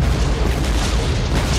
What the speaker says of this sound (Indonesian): Ledakan itu mengawali jalannya pertempuran terhadap dua pihak.